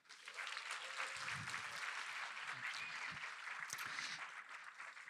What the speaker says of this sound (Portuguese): Então, a salva de palmas para vocês, vai.